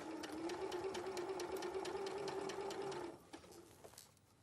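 A domestic sewing machine stitches binding in a steady, close, continuous run for about three seconds, then stops, leaving a few soft handling clicks and faint room sound.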